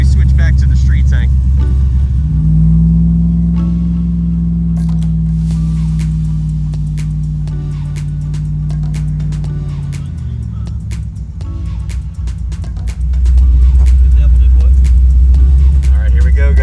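A Chevrolet Trailblazer SS engine runs rough and stumbles from air in the fuel system after switching back to the street tank. A loud, close, uneven rumble with a wavering drone partway through, and voices over it.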